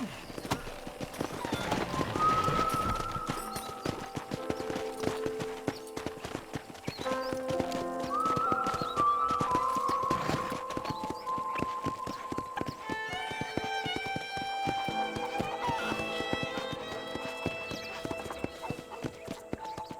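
Hooves clip-clop in a steady trotting rhythm throughout, with people talking over the hoofbeats and occasional tonal game-like sounds, from the video game Red Dead Redemption.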